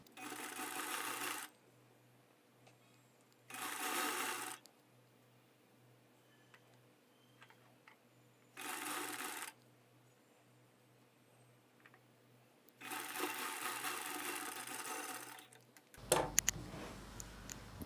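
A sewing machine stitches a shaped belt with the folded edge sewn like a topstitch. It runs in four separate bursts of steady whirring, split by quiet pauses, with some close handling clatter at the end.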